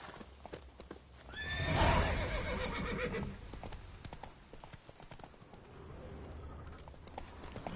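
Roach the horse in The Witcher 3 gives a loud, close neigh over clip-clopping hooves, followed by a stretch of faint hoofbeats, birds and ambient game sound with no talk.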